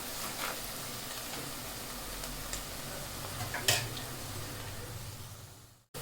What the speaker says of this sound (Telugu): ఇప్పుడు కొద్దిగా పసుపు, కొంచెం పచ్చివాసన పోయే వరకు వేయించుకోవాలి.